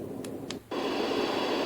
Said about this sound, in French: Nous donne un panel de bruit blanc.